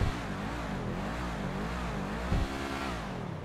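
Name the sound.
Ocelot Lynx car engine revving in video game GTA 5 Online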